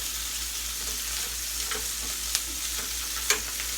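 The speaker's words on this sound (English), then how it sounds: "Hear that sizzle? That means that pot is nice and hot." Garlic sizzles steadily in a hot pot, a soft continuous frying hiss with a couple of sharp crackles and light stirring, no voices.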